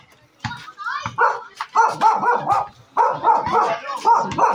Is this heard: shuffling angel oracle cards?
no